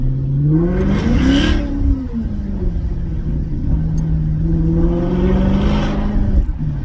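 A Maserati GranTurismo S engine with valve-delete exhaust revs loudly twice, pitch rising and falling with each throaty burst, over a constant rumbling exhaust.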